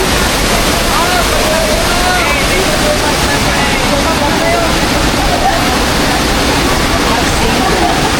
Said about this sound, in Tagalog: Ito po ang Hambugahay Falls.